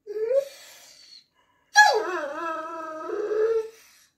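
A greyhound moans and howls for a treat, giving a short rising whine, a pause, then a long drawn-out howl that wavers and slides before trailing off, close and fairly loud with no talking.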